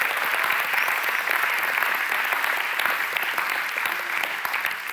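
An audience at a CEO pitch festival claps loudly and continuously, a dense, even wash of applause lasting throughout with no voices standing out.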